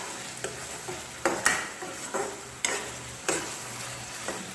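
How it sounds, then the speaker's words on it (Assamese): Spices with Kashmiri red chili powder frying in a pan for a local chicken curry, stirred in several scraping strokes over a steady soft sizzle, close and moderately loud. "কাশ্মীৰী ৰেড চিলি পাউডাৰ দি দিম আৰু এইখিনি এতিয়া ভালদৰে ভাজি ল'ম"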